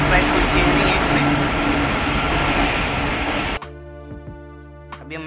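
Riding inside a Chennai Metro train between the airport and Chennai Central, a steady loud rumble of the moving carriage fills the first few seconds, then drops to a quieter hum with faint clicks.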